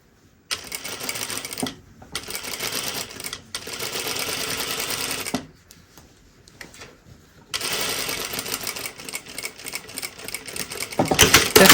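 A sewing machine understitches fabric in three sustained runs of rapid stitching, separated by short pauses with faint handling noise, close and fairly loud.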